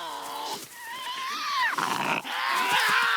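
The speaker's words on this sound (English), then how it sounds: "As the situation escalates, growling begins." Harsh, guttural Tasmanian devil growls rising into a strained, whining snarl, loud and close, continuing without pause for a few seconds.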